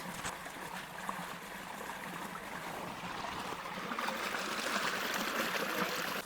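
Irrigation water runs into a wheat field on a village farm with a soft, steady rushing and trickling flow, faint and continuous without talk.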